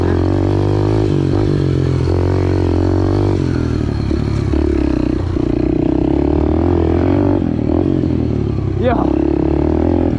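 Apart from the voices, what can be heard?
Yamaha TTR pit bike engine revving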